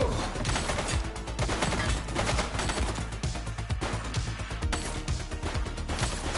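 Gunfire in The Precinct police game: dense bursts of automatic fire and rapid shots crackle continuously at a loud, fairly close level, with no speech.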